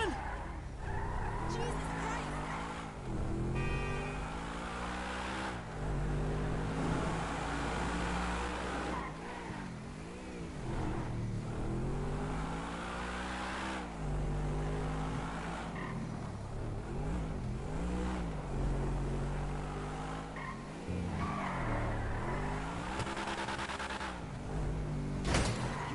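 A car driving in GTA story mode, with an engine droning and revving in steady waves, its pitch rising and falling throughout, loud and continuous under occasional chatter.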